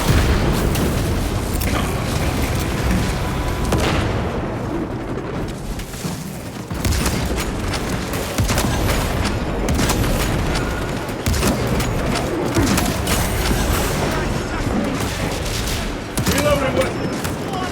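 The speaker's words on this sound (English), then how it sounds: "Frag grenade deployed." A frag grenade goes off in Warhammer 40000 Space Marine 2 amid a busy battle, with loud booms and bursts of gunfire layered over constant rumbling action across the whole stretch.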